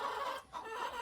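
Chickens cluck inside a chicken coop in a short, fairly loud burst that dips briefly before the clucking resumes.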